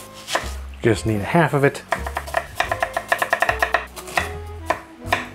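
A knife chops a sweet Vidalia onion on a cutting board, producing a few short, close taps that sit under a voice, which talks through most of the moment.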